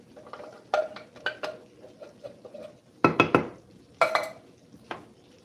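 Utensil scrapes and knocks against a pot while diced tomatoes and tomato sauce are stirred into homemade chili, a few clustered clatters standing out above a low, steady cooking background.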